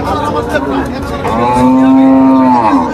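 A large cow moos loudly and close by at the historic Tepakhola cattle market in Faridpur, one long drawn-out low call rising over a busy background murmur of the market.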